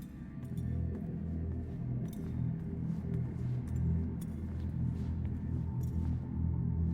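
An approaching storm in the sci-fi game Fort Solis gives a steady, deep low rumble that persists for several seconds at moderate, distant loudness, with almost no other sound.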